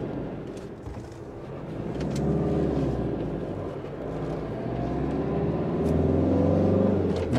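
Cars rounding tight corners at speed on the Corniche road near Monaco, a steady engine rumble that swells and eases as vehicles pass close by, with no voices over it.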